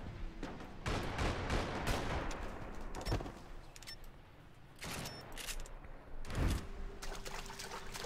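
Pistol shots ring out in a Max Payne 3 multiplayer deathmatch, a few loud separate bangs with echoing tails amid game noise, no one talking.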